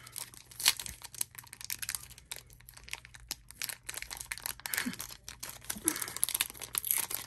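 Crinkly foil of a Prizm trading card pack being torn and crumpled in bursts over several seconds, close by, with a soft steady hum underneath.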